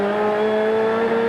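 Touring race cars at Amaroo Park in 1989, their engines a steady, loud, sustained drone with strong harmonics through a final-lap corner, with no pauses in the roar.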